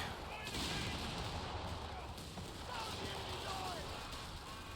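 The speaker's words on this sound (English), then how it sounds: "Nice rifle grenade." Distant, muffled gunfire and explosions from a Company of Heroes 3 battle, including a rifle grenade blast, sit low in a continuous noisy war ambience beneath talking.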